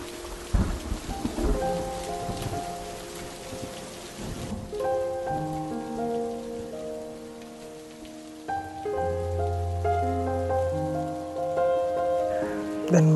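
Heavy rain with thunder during a walk in Bangalore: a constant wash of rainfall with low rumbles, partly masked by steady tonal music layered over it.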